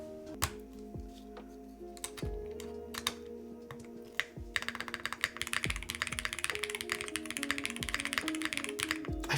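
Typing on a Freya mechanical keyboard fitted with foam and Obscura switches, close and clear; scattered keystrokes at first, then rapid continuous clacking in the second half.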